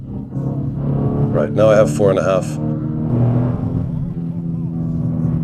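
A Fiat Tipo 2.0 16v engine pulls in second gear, a steady low drone heard from inside the car under close talking.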